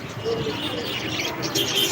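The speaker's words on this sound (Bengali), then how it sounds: "এই হচ্ছে ঘুঘু পাখি এটা হচ্ছে দেশি ঘুঘু পাখি রঙিন" Native spotted doves coo in low, soft repeated calls at a nighttime bird market in Dhaka, mixed with light chirps and market background noise.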